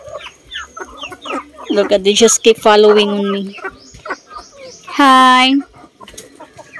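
Farm chickens cluck and squawk close by in an excited cluster, with a louder drawn-out call near the end, while a person briefly greets.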